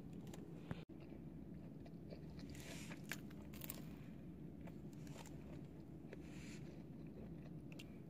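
Biting and chewing a warm chocolate croissant with powdered sugar on top, quiet soft crunches and mouth sounds close to the microphone over a low steady background hum.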